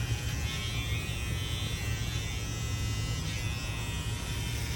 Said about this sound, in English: you can turn the trimmer over and go the other direction